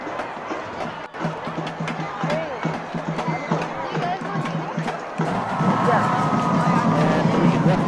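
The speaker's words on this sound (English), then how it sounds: "The energy in this crowd, nothing but smiling faces." A high school football crowd at a Friday night game between Reseda and San Fernando cheers and chatters in a steady wash of voices, swelling louder near the end, with a few shouts poking through the hubbub.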